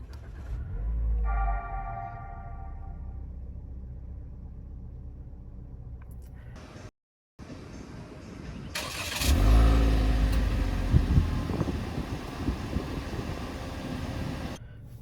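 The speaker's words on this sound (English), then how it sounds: "to start the engine, just put your foot in the brake and push the button to start" A 2024 Toyota Veloz car engine cranks and starts with a low rumble after a push-button start, then settles into a steady idle.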